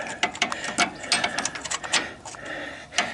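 A ratchet with a 3/8 drive, 1/2 inch deep socket works loose a nut on a scrapped riding mower, producing quick bursts of close, crisp clicking in uneven rhythm with brief pauses between strokes.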